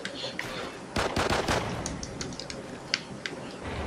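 Pistol gunfire in the game Call of Duty Ghosts: a tight burst of several sharp shots near the one-second mark, followed by scattered fainter shots and clicks.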